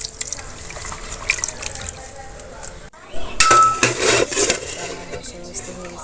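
Water is poured into a cooking pot of duck meat, a rushing, splashing flow that swells midway, mixed with clinks of metal cookware.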